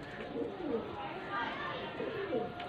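Pigeons cooing nearby in soft, repeated rolling coos over a steady background hum.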